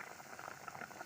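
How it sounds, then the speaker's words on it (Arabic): Orange peels boiling in a pot of water on the stove, a steady soft bubbling and gurgling hiss, faint and continuous with no talking over it. "اول ما غلوا ولقيتهم خلاص القشر بقى مهري خالص"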